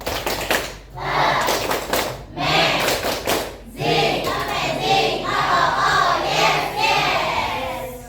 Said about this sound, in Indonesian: Oke, kasih tepuk amazing grupnya Fable.